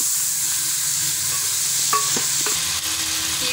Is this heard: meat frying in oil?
yes